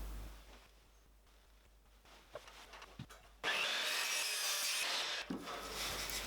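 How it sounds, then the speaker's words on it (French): A leftover pallet plank is sawn at a 45-degree angle at its ends. A few quiet knocks and scrapes lead into loud, continuous rasping strokes of the saw through the wood, close by and alone. "je vais prendre la chute de ma planche de palette et je vais couper ses extrémités dans un angle de 45"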